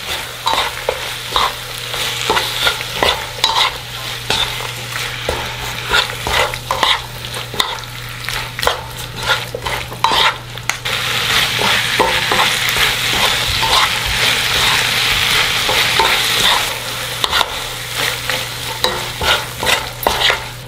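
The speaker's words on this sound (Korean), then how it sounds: "여기에 아까 청고추, 홍고추 모두 다 넣을게요. 물이 생기지 않도록 잘 섞어서 볶아주세요." Webfoot octopus is stir-fried in a pan with green and red chili peppers, giving a continuous close sizzle with steady scraping and stirring clicks and a denser frying hiss partway through, with no talking.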